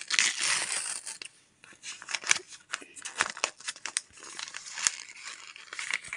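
A paper surprise packet is crinkled, torn and opened up close, giving an irregular run of crisp rustles and sharp crackles with short pauses between handling bursts.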